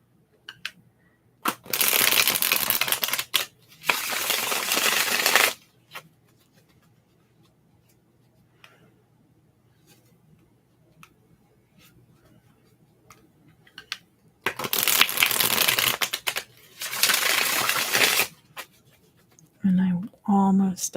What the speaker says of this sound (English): I'm almost done shuffling your cards, I promise.